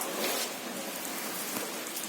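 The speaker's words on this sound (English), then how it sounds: "it is raining outside" Steady rain falls outside, a constant close hiss of drops on surfaces with no talk over it, holding level the whole time.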